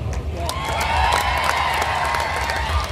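Crowd applause at a Rahul Gandhi political rally in Solapur, a steady wash of clapping and cheering from a large audience, loud and continuous throughout.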